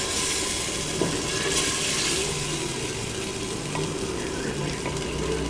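Chicken and potato masala frying in a pot after yogurt is added, a steady loud hissing sizzle with a few soft stirring knocks, close, no talk.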